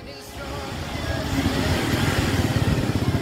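Motorcycle engine fitted with an Aero Metal Guard revving up from a moderate idle to a louder, sustained roar, close by, with a steady throbbing pulse and no talk.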